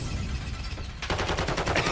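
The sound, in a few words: gunfire in video game Call of Duty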